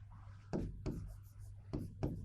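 Hand-writing chemical formulas on a board during a chemistry lesson: several short scratchy strokes in bursts, close and moderately quiet, over a low steady hum.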